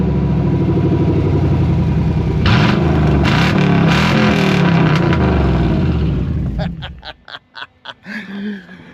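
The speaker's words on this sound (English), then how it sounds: "Let's hear the sound of no mufflers." Chevy 350 V8 with no mufflers, loud open-exhaust burble idling and then blipped, ending in several sharp staccato rev pulses; brief background voices may mix in.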